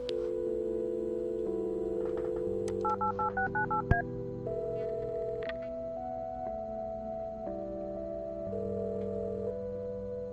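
A phone number is keyed in the Kathy Rain 2 video game, a rapid run of about six DTMF beeps heard over sustained synth music chords, followed by a single sharp click.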